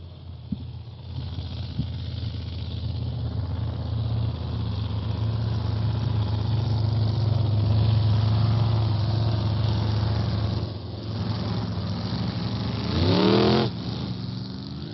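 An 18-foot racing speedboat with a supercharged 470 cubic inch Chevrolet engine roars steadily and loudly at a distance, its drone swelling slightly in the middle and shifting in pitch near the end, with wind noise.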